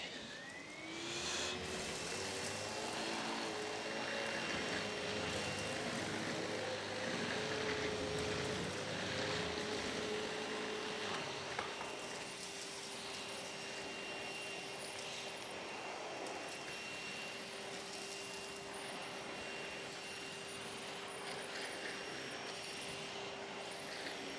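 A Wessel Werk HFT 265 soft roller floor head runs over a low-pile area rug, giving a steady vacuum whine and motor hum with a rising pitch at the start, constant and close throughout.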